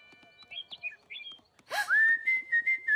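Small cartoon bird chirping and whistling, a few light tweets followed by a louder sustained whistling call, close and clear with no talk over it.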